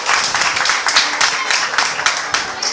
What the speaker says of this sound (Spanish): Una ofrenda de palmas al Señor esta noche.